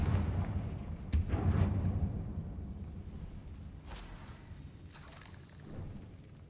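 Repeated Confringo blasting-spell explosions from the Hogwarts Legacy video game, a loud boom near the start followed by further blasts and rumbling bursts, with no voices during the explosions.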